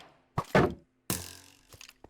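A shield blocking shots in the Minecraft video game: a pair of close, hollow thunks followed by a sharper, brighter impact that rings briefly, then a faint knock at the end.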